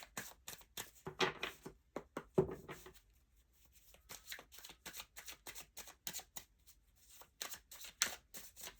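A deck of tarot-style reading cards being shuffled by hand, giving repeated rapid riffling bursts and soft card slaps in an irregular rhythm, close and fairly quiet with no talking.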